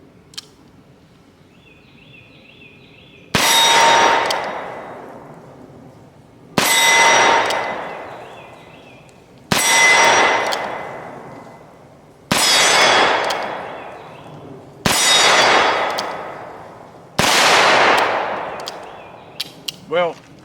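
Six loud, sharp revolver shots from a Colt Python Elite Combat firing HSM Cowboy ammunition, spaced about three seconds apart, each with a ringing tail, after a quiet opening with faint background beeping.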